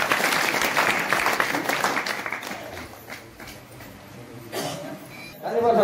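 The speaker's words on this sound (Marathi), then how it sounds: "आपण टाळ्या वाजवून स्वागत करा." An audience at a village kirtan gathering claps in welcome, a dense burst of applause that thins out and fades over a few seconds, with a cough and a voice near the end.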